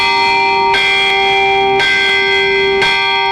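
Manila Cathedral's church bells ring out, three strong strikes in about a second apart, each leaving a long, shimmering hum that carries between the blows.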